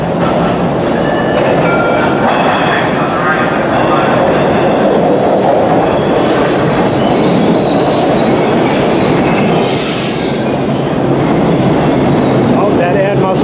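A Boston Orange Line subway train rumbles loudly and continuously, with wheels squealing and rails clattering in repeated bursts, close and enveloping, with a little talk in the background.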